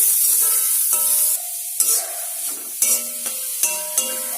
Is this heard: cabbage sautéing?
yes